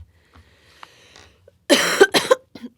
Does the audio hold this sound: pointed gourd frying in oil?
no